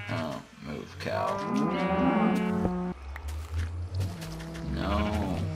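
Cows on a farm in a video game moo in long, loud, close calls, one after another with short gaps between them.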